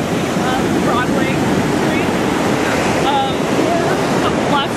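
Ocean surf on the Los Angeles coast rolls in as a steady loud wash, with gusts of wind buffeting the microphone throughout and no talk.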